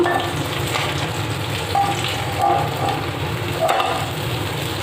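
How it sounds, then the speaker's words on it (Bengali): Koi fish frying in hot oil for a koi curry, a steady dense sizzle and crackle running throughout, with a few brief brighter spits and bubbling swells. "মাছগুলো আমি উল্টে পাল্টে লাল লাল করে ভেজে নিয়েছি"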